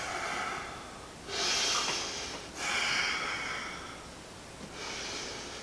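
Deep breaths in and out during a Pilates reformer twist come as three long, audible nasal breaths, fairly close, separated by quieter pauses.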